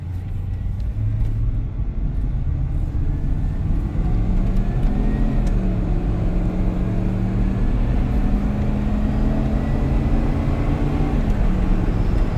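A 1994 Ford F150 XLT pickup with a 351 engine hums and climbs in pitch, drops as it shifts, then climbs again through several gears into overdrive, steady road rumble underneath, no talking.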